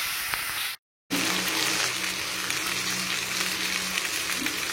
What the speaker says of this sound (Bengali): এবারে আস্তে আস্তে করে ফ্রাই করবো